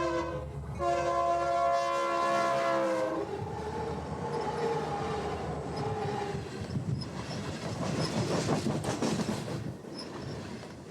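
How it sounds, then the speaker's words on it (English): A BNSF freight train rolls along the former Santa Fe main line through Bragdon, Colorado, sounding its horn in long steady blasts before the rumbling cars and clattering wheels take over, loud and close throughout. "Southbound BNSF trains follow the old Santa Fe main through Bragdon."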